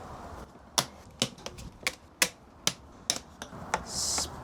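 A wrench cracks loose a series of bolts on a Mercedes G500 with M113 V8 during servicing, giving about a dozen sharp, close metallic snaps spaced unevenly, ending with a short hiss of movement.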